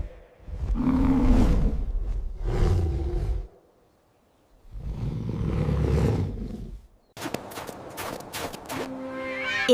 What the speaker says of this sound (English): It's a bear.